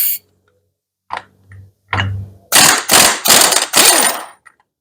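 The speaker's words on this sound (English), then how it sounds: "you can zip it off with an impact hammer" Impact hammer zipping a nut off a Suzuki Hayabusa clutch during a slipper clutch delete: a few short quiet taps, then four loud rapid hammering bursts in quick succession, close up.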